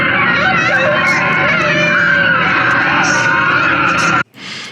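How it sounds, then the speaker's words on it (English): Teddy bears screaming: a dense chorus of high, sustained shrieks and wails that stays loud and piercing, then cuts off abruptly near the end, leaving a brief quieter tail. "The teddy bears are starting to scream."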